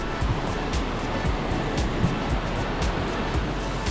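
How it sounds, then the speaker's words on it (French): A small river flows through a forest, a steady close rushing and gurgling of water that carries on alone without a break. "Belle petite rivière."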